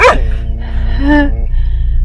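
A shepherd's dog barks a few times close by at a farm in Bulgaria where cows graze, with sharp yips and a whimpering, whining tone over steady outdoor background noise.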